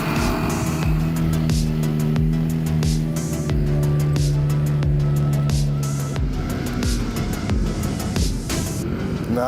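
Polaris Xpedition UTV engine revving and pulling away over dirt, a loud, steady drone with rising and falling pitch and rhythmic bumps, close at first, then easing as it drives off.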